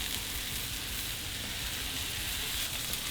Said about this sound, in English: Putting the pork chops in, a good rule of thumb is to kind of lay it away from you, just in case anything splatters up.